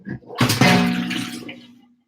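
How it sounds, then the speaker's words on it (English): Tap water splashes into a frying pan being washed, a sudden rushing gush that holds steady for over a second, then trails off, close and fairly loud. "I'm going to have to wash this pan."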